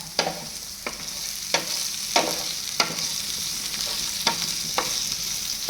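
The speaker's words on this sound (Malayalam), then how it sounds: "സവാളയൊന്നും ഇടാം. എല്ലാം ഒന്ന് വഴറ്റിയെടുക്കാം." Onions sautéing in a pan for rajma (kidney bean) curry, with a steady sizzle beneath repeated sharp spatula scrapes and stirs at a regular pace, close and alone.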